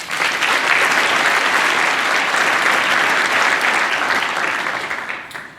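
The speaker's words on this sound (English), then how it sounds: "Let's give them a round of applause." A crowd at a coaches' luncheon applauds steadily for several seconds, a dense wash of clapping that fades out at the end.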